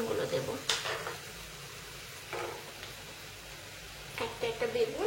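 Eggplant pieces dropped into hot oil in a pan, sizzling in soft bursts with light clatter as each piece goes in, under a speaking voice.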